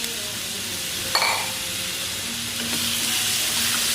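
Sliced paprika and beans sautéing in a hot pan: a continuous close sizzle and hiss, with a sharp clatter as the vegetables drop in and the frying swelling slightly afterward.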